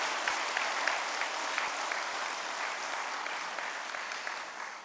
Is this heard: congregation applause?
yes